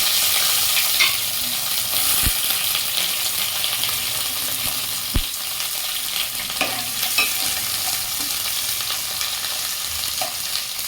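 Washed dry fish pieces fry in a pan with a continuous crackling sizzle, as a spatula stirs and scrapes now and then and gives a couple of sharp metallic clicks; close and fairly loud, with no speech.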